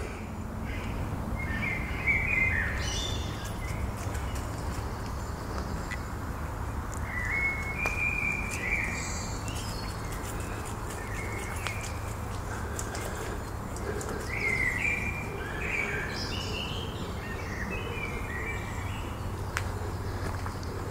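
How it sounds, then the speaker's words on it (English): Outdoor birdsong on a hot summer day in shady woodland, with short chirping phrases recurring every few seconds at moderate distance over a steady low background hum and rustle, no talking. "Lots of lovely bird song."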